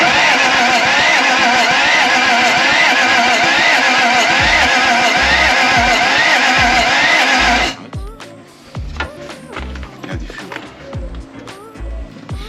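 A brand-new starter motor on an electric motocross bike runs loud and continuous, whining and overworked until it smokes, then cuts off abruptly, leaving scattered clicks and clatter.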